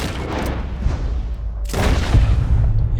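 Gunshot in the video game Red Dead Redemption 2, a single sharp, loud blast cutting through dense game ambience and followed by a lingering rumble.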